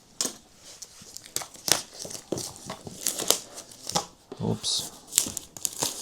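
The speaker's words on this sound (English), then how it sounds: "So let's just remove the plastic." Plastic wrapping is torn and crinkled off a product box in bursts of crackling, close to the microphone, while a person speaks briefly.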